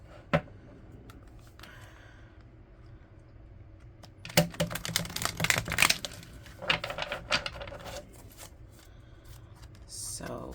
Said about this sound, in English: I usually don't shuffle these cards on deck